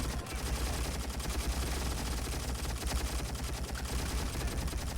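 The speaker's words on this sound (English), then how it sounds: "he's shooting his grenade launchers." Grenade launchers and rapid gunfire from infantry fighting a tank division in the battle game Army Men of War, a dense, continuous barrage of overlapping shots and blasts with no talk.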